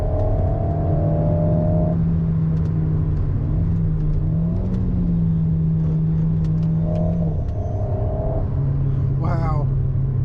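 Alpine A110S engine pulling after a paddle shift, a steady droning hum that steps in pitch a few times, loud and constant, with someone talking over it.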